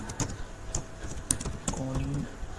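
C code being typed on a computer keyboard, a quick run of sharp, close key clicks in uneven bursts, with a brief voiced hum partway through.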